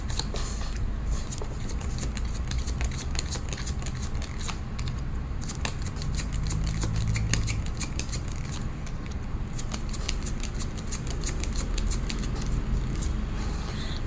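Tarot cards being shuffled and drawn, a continuous close flutter of riffling card edges with rapid clicking snaps, dense and steady throughout, without speech.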